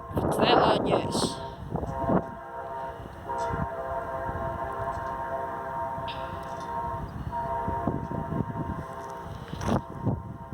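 An Amtrak train passes close by, its loud multi-tone horn blaring in long repeated blasts over the rumble of the rail cars, with people's voices and shouts mixed in.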